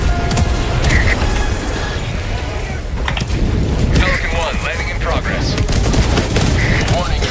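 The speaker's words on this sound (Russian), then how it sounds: "А, у него пушка сработала." An automated turret fires in the video game Helldivers 2, producing a dense, continuous stream of rapid shots and mechanical clatter that stays loud throughout, with battle noise around it.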